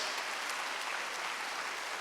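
A church congregation at a Korean Wednesday worship service claps together, the dense applause filling the room at an even level throughout, with no voices over it.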